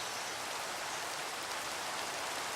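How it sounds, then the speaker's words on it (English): Steady rain falling in the video game Minecraft, a constant even hiss of downpour with no pauses or voices. "I'll deal with the rain."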